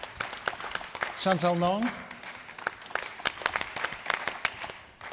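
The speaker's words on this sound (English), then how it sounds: "Applause, please." An audience at a film industry panel applauds as panelists are introduced; scattered, crisp claps from a modest crowd continue throughout, with a voice announcing names over the clapping.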